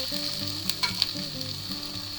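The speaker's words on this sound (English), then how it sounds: "let's see if we're done caramelizing our onions a little bit here" Onions caramelizing in a pan for a grilled ham, cheese and tomato sandwich, a soft steady sizzle with a few sharp utensil clicks near the middle, faint low background tones, no speech.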